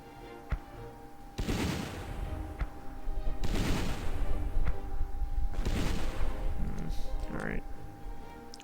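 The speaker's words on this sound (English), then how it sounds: "Let's just try to bombard this." Artillery bombardment in the wartime strategy game Battle Academy 2: Eastern Front, heavy rumbling blasts and crackling fire rolling in three long waves with a faint whoosh near the end, under a low steady hum.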